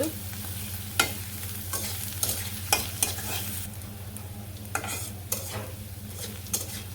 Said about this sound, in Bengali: পেঁয়াজ কুচি দিয়ে হালকা লাল লাল করে ভাজার পরে তারপরে ডাটি গুলো দিয়ে দিব